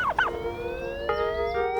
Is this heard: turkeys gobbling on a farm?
yes